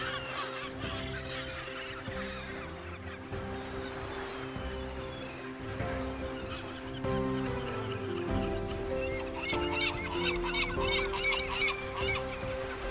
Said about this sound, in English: Their massive colonies are home to thousands of nesting birds. In these dense, noisy grounds